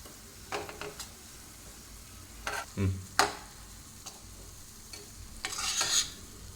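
A coconut laddu mixture of grated coconut, sugar syrup and ground sesame powder is stirred in a pan, with soft irregular scrapes and a few spoon clicks, close and fairly quiet, with no voices.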